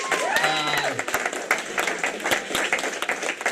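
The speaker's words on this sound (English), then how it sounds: "big round of applause for my cousin Corey" A comedy roast audience breaks into loud applause for the comic's cousin Corey, dense clapping mixed with some cheering and a brief tonal sound near the start, sustained throughout.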